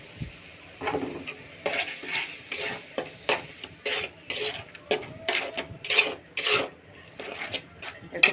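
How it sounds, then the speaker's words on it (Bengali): Coconut paste being stirred into frying prawns, a rhythmic series of rasping scrapes of a spoon against the pan over a soft sizzle, close and repeated about a dozen times. "এবার দিব নারকেল বাটা"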